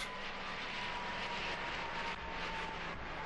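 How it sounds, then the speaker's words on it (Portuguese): Airbus A320 airliner passing slowly and low over Habsheim airport, a continuous broadband engine roar with a steady whine, holding an even loudness throughout and with no voices. "Enquanto o A320 passava pelo aeroporto Habsheim, sua velocidade caiu para apenas 112 nós"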